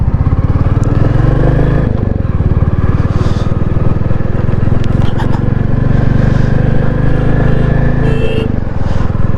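Royal Enfield Standard 350 motorcycle ridden at night, its single-cylinder engine thumping in a steady, loud, close drone with faint wind and road noise, slight shifts in pitch as speed varies.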